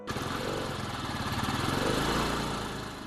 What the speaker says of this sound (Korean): 역시 오토바이 소리가 들립니다.